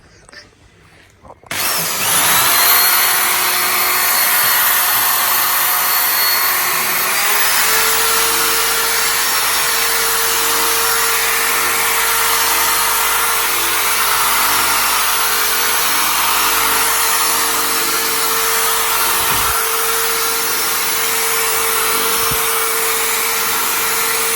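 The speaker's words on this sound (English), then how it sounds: "And we just go over the sander." A power sander or polisher runs continuously, polishing plastic vacuum cleaner tips. It starts with a sudden whir and holds a loud, steady drone throughout.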